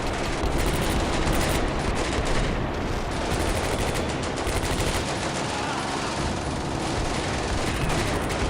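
Dense gunfire and artillery rumble through a Combat Mission: Beyond Overlord battle, sustained rapid machine-gun bursts layered over heavy, continuous booming, loud and unbroken throughout.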